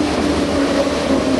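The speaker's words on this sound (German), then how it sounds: "Die U-Bahn kommt." Subway train pulling into an underground station, a steady loud rumble with tonal hum holding throughout, no voices.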